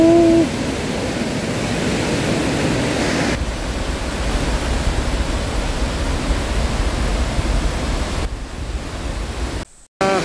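A stream at Daecheoncheon on Geumjeongsan in Busan rushes in a steady, broad wash of flowing water, close and unbroken for several seconds before ending abruptly.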